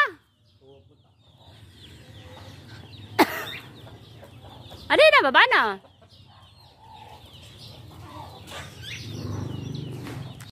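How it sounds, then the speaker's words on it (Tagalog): A pet chicken clucking close by, a few short calls with a louder burst of clucks in the middle, while a person talks quietly between the calls. "May ibon, ayun o."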